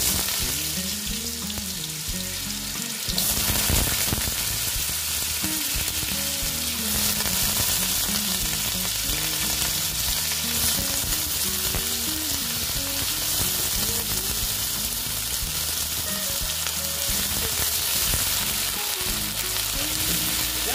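Potatoes fry in hot oil in a pan, a loud, continuous sizzle with crackling throughout, broken by a burst of louder spattering near the start and occasional stirring scrapes.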